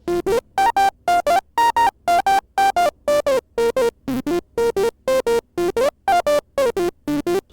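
A synthesizer built from Lego and an electric motor plays a choppy tremolo swing pattern. Its buzzy, pitched tone pulses rapidly on and off in a steady, swung rhythm, loud and close with no voices.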